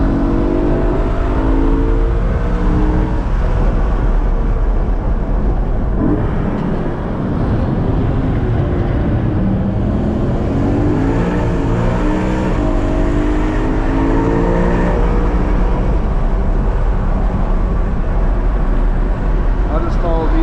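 A BMW E92 M3 Competition lapping Laguna Seca Raceway on a track day, its engine loud and continuous from inside the cabin, revs rising and falling through shifts, with someone talking over it.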